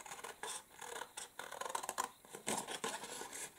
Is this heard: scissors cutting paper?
yes